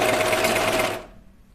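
A cover stitch sewing machine runs steadily on a knit dress, a loud close mechanical whir for about a second before stopping abruptly, leaving a faint low hum.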